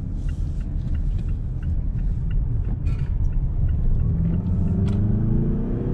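A Mazda CX-8 diesel SUV with a 190-horsepower engine cruises on the road, heard from inside as a steady low engine and road rumble with faint rattles, gradually rising in pitch as it gains speed, no speech.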